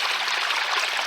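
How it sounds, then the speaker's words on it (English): Water trickles and splashes in a steady stream spilling out of a leaking koi pond, close and continuous, with no talking. "I have water spilling out over here."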